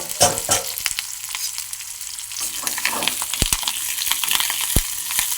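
Onions sautéing with crushed garlic and curry leaves in a kadai for cauliflower sambar, a continuous sizzle broken by sharp scraping stirs and clinks of a spoon against the pan, close up.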